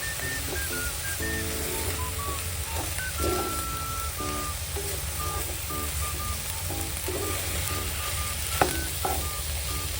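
Pickled bamboo shoots are stir-fried in a pan with a constant loud sizzle, while a spatula scrapes and clatters against the pan in repeated quick strokes.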